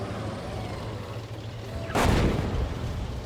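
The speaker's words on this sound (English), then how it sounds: "There you go, enemy artillery." A single heavy enemy artillery blast in the tank game Gunner HEAT PC booms out over a low engine rumble during a combined-arms attack, hitting suddenly and then tailing off into a rolling roar.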